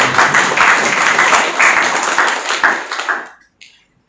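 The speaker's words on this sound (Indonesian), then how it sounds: "Tepuk tangan dulu, tepuk tangan." A church congregation claps in lively applause during a sermon, swelling and then tapering off, fading to near silence before a brief final clap.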